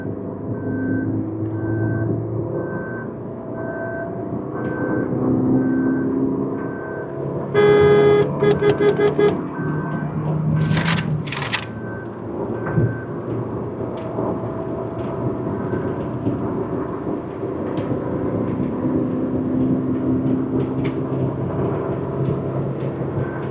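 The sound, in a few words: Maruti Suzuki Baleno hatchback accelerating on the road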